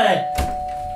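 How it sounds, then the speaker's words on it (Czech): A doorbell rings once indoors, a clear sustained electronic tone that holds steady and close for about a second after a brief burst of noise. "Co tolik zvoníte?"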